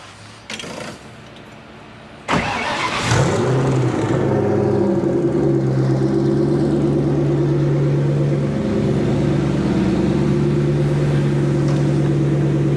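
A turbocharged Ford Mustang engine cranks briefly, fires up with a sharp catch and settles into a loud, steady idle that rumbles on without a break, with no talk over it.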